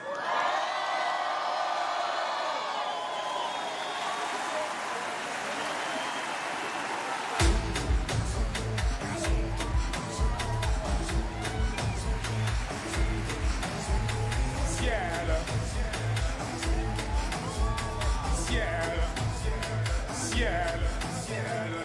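Loud crowd cheering and whooping swells at a Paris New Year's Eve gala concert as a performer takes the stage, a dense roar, then sharp rhythmic bursts of music-like pulses and continued cheering fill the rest.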